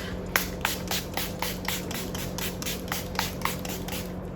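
A pump bottle of makeup setting spray is squirted onto a face over and over in quick, even puffs, close up, each burst a soft hiss.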